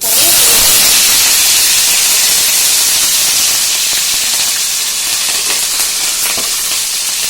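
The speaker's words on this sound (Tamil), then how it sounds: "வெந்தயம் கொஞ்சம் போட்டு பொரிஞ்ச உடனே" Fenugreek seeds dropped into hot oil for a fish curry give a loud, close, continuous hiss and sizzle with faint crackling, strongest at the start and easing slightly, with no voices.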